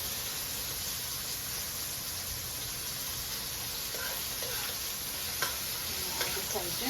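Onions fry in a pan for a fish curry, a soft, even sizzling hiss that carries on throughout, with a few faint clicks near the end.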